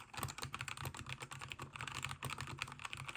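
Rapid, uneven clatter of a budget K68 mechanical keyboard with red switches, keys struck quickly and continuously at close range, quiet overall with no voices.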